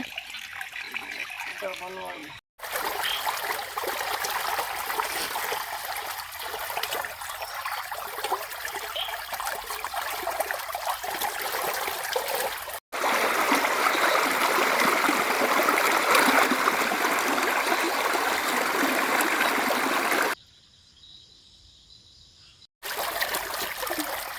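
Water flowing steadily for soaking or washing bamboo shoots, a continuous rushing stream close by, broken by a few brief cuts and one quieter stretch.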